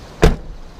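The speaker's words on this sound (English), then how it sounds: "Power windows, power locks. So the doors are all power" A short, sharp mechanical thunk from the power door locks of a 1995 Jeep Cherokee XJ two-door, one quick close burst with a quiet hum before and after.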